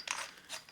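Adjustment retaining ring being unthreaded on an OE Lido manual coffee grinder, two short, faint metallic ratcheting turns close by.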